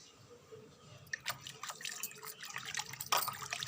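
Water is poured and splashes in uneven drips and trickles while a small Gopal idol is bathed indoors, with soft irregular spatters building toward a louder splash near the end, no talking.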